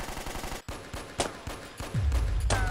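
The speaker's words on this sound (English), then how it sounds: "a sudden burst of gunfire echoed down the corridor Snake was about to enter" Machine gun fire echoing down a corridor in an animated action series: several sharp, loud bursts separated by short gaps, with a rumbling low tail building toward the end.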